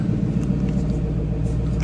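Ford Mustang Boss 302 with the 5.0L Coyote V8 and six-speed manual, its engine and exhaust giving a steady, close, deep idling rumble with no talk.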